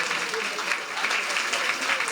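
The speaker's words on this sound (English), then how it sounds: "Let's give a big round of applause to the Young Junior High School Varsity Band." Brief steady applause from a school board meeting audience honoring a junior high varsity band, moderately loud and continuous over its short span.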